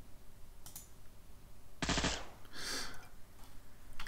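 Gunfire in Mars Tactics hits cover as one short, sharp automatic burst, followed by fainter scattered shots and impact noises against a quiet background.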